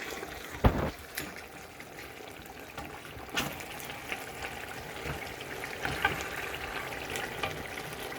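Chicken and onion masala frying in its own released juices in a pan, a soft, steady sizzle broken by a few sharp clatters of a spoon stirring.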